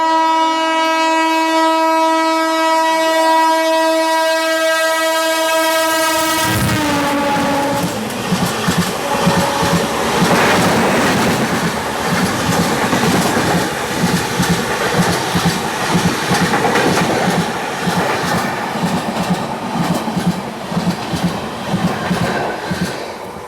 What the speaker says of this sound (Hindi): ये आ गई Hyderabad CSMT Hussain Sagar superfast express.